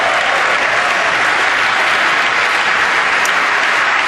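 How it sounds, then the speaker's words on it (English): Loud, sustained applause from members of Congress greets the President at the 2015 State of the Union, a dense, unbroken wash of clapping from a large crowd filling the chamber. "A big round of applause right there."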